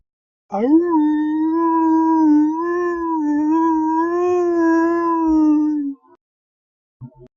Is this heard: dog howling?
yes